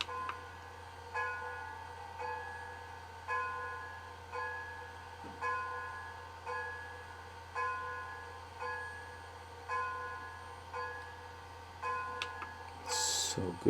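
Bell of a model steam locomotive played through a TCS WOW sound decoder, ringing in an even, repeating rhythm of strokes over a low steady engine hum, fairly faint, with a clatter near the end.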